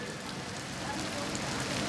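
Steady rain falls at an outdoor gathering, a dense, even hiss that continues throughout with no pauses.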